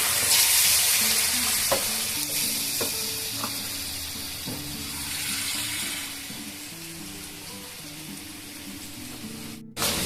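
Soaked bori lentil dumplings drop into a hot pan and fry with a steady, close sizzle that runs almost the whole time, broken by a few soft stirring knocks and clinks before cutting off abruptly at the end.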